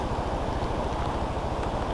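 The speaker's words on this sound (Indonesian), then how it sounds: "Sebelah kiri ini air terjun apa ini?" Water from a waterfall beside a mountain road rushes in a steady, moderately loud wash, mixed with low rumbling that may come from a motorbike ride, with no voices heard.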